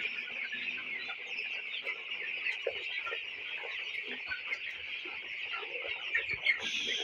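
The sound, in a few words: broiler chickens clucking in a poultry shed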